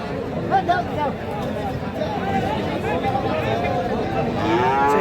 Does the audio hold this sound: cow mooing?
yes